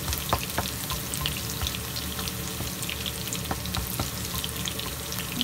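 Garlic sautéing in a pan for chicken tinola with potato, a steady sizzle with scattered crackles and occasional clinks of stirring, fairly close and continuous throughout.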